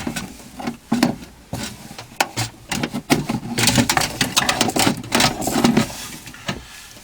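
A power window motor scraping and clunking as it is slid out of a 2002 Dodge Caravan door, with irregular close rubbing and knocking.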